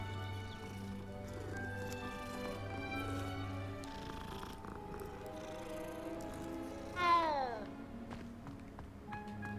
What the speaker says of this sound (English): there's so many different cats here